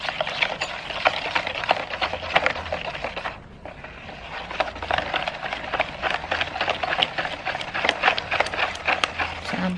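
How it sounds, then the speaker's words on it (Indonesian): Brownie batter with eggs being stirred by hand in a bowl, a steady run of close scraping and tapping strokes with a brief pause partway through. "Kita aduk lagi."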